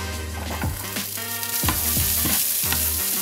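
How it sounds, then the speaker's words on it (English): Steady sizzling of pancetta frying over medium-high heat in a high-sided frying pan, with periodic scraping and stirring knocks over the constant hiss. "take our pancetta and let it cook in on a medium-high heat"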